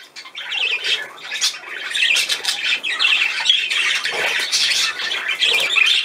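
Budgerigar cock squawking and chattering continuously at close range, dense harsh calls alone with no talk.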